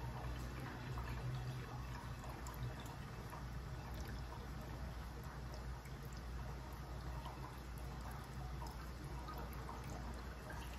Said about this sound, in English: Siphon starting.